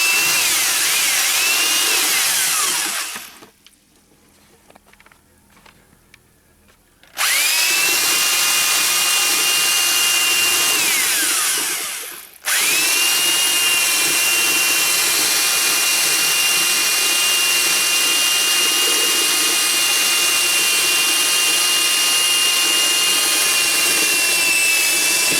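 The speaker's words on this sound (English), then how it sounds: "get my drill and mixer. Okay, let's start mixing." A power drill spins a mixer paddle through about two gallons of homemade modeling clay, a loud steady whine with a brief stop near the start and another short pause midway before resuming.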